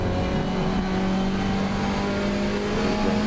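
A GT4 race car in the game Assetto Corsa Competizione lapping Barcelona, its engine droning loud and close with a steady rising tone through a gear, continuous with no talk.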